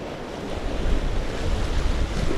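Strong wind buffets the microphone at the rocky shore at night, a continuous rough rumble with surf washing beneath it and no voices.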